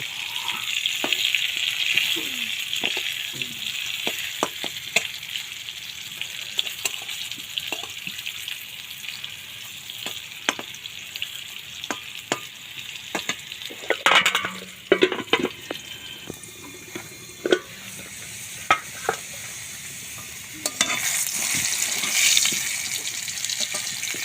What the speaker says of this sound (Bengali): আলু যত লাল লাল করে ভাজবো আলু তত বেশি টেস্ট হবে।